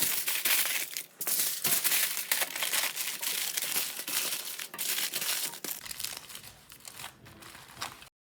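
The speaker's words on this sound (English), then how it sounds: "Take the brisket, put it on the foil with the tallow, wrap it up tight" Aluminum foil crinkles and crunches continuously as a brisket with beef tallow is wrapped up tight, close and busy rustling in uneven bursts for about eight seconds, with no talking.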